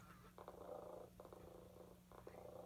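A Joy For All companion toy cat gives a low, steady mechanical purr with soft rhythmic pulses, close and quiet, with no talking.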